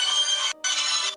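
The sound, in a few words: phone ringtone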